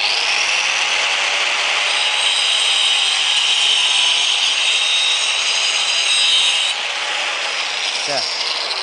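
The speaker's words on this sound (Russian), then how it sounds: "Отпилим." A wooden hammer-handle blank being sawn off by hand, with close, steady rasping strokes that run continuously for about eight seconds before tapering off at the end.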